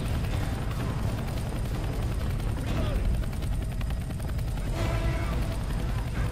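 Helicopter rotor chopping in the zombie shooter game Left 4 Dead 2, a steady thumping drone with bursts of gunfire and explosions over it, while players talk across the whole stretch.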